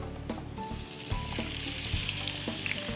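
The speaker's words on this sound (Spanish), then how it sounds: "vamos a calentar un wok con bastante aceite y vamos a poner las" Pork ribs fry in plenty of hot oil in a wok, a steady close sizzle and crackle with occasional stirring clatter throughout.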